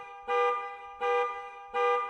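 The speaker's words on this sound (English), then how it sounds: "The loud blaring of a car alarm" Car alarm blaring loudly in three regular pulsing bursts, each about half a second long with a steady harsh tone, repeating at a steady rhythm with short gaps between.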